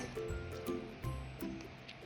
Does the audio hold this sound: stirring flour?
yes